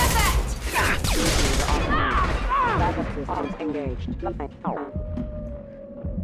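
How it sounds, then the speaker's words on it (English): Heavy gunfire and explosive impacts fill a Mass Effect 2 Legendary Edition firefight, loud dense bursts crowding the first seconds and thinning out, with in-game voices speaking over the combat. "Taking heavy fire."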